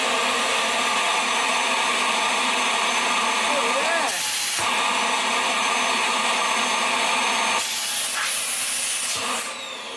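A Vax Mach Air upright vacuum cleaner running with a loud, steady close whine and airflow roar, its pitch and tone shifting briefly twice as the airflow changes, then dropping slightly at the end.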